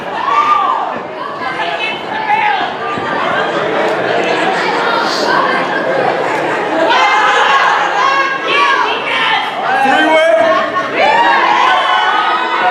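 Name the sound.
wrestling crowd cheering the referee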